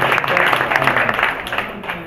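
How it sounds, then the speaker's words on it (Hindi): Crowd applause at a political rally, a dense, steady wash of clapping lasting a couple of seconds, loud and close, with a faint voice mixed in. "जोरदार ताली बजाओगे"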